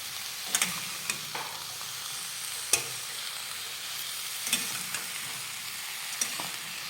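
Brinjal and potato curry stirred in a pan, a steady soft sizzle broken by a few sharp spatula scrapes and clinks, close and fairly quiet with no talking.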